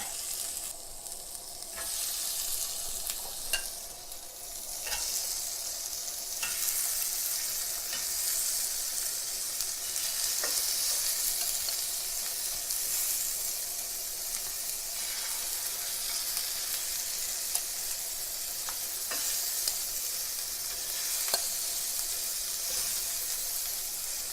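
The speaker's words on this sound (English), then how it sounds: "I've got some olive oil and salt in here that I've tossed around, and my grill pan's nice and hot" Shrimp tossed with olive oil and salt sizzle on a hot grill pan, a loud, steady frying hiss that carries on unbroken, with occasional faint clicks from shifting the shrimp around.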